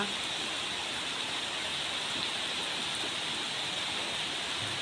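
A steady, dense rain shower, the first of the season in a village in May, hisses evenly and without pause, heard from a rooftop terrace.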